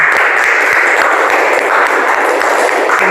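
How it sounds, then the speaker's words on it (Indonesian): An audience claps steadily through a lecture-hall presentation, a dense, continuous wash of many hands that stays loud and even from start to finish with no voices over it. "Oke, baik, kita beri aplaus lagi."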